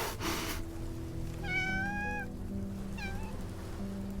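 A cat meows twice inside the Love and Deepspace video game, a drawn-out mewl and then a shorter one, heard over a steady background music bed.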